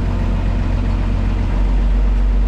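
A John Deere 4640 tractor engine runs with a loud, steady low diesel rumble throughout, close by and alone, with no voices.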